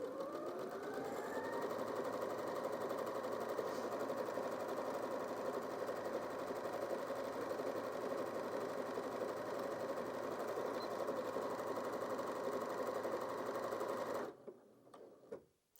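A Janome DKS30 sewing machine stitches steadily and loudly for about fourteen seconds with an even mechanical whir, then stops abruptly, leaving a few faint handling noises.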